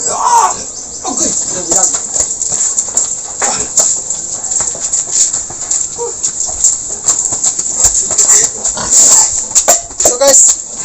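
Fattener pigs penned in crates grunt and squeal in bursts, close and loud, over a constant high insect-like buzz, with people talking intermittently among them.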